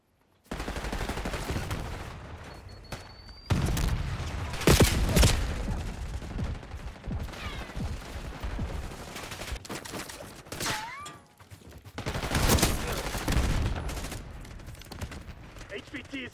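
Call of Duty: Black Ops 6 multiplayer gunfire on the Derelict map, with rapid automatic bursts and single shots that come and go in waves, loud and close, among in-game radio voice callouts.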